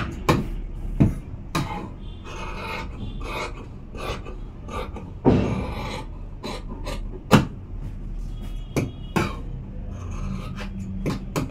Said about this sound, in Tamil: இப்போ நான் கட்டிங் பண்ணிடுறேன் கையை